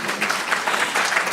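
Brief audience applause at an early-childhood leadership institute talk, a dense, even burst of many hands clapping together, fairly loud and close, with no speech on top.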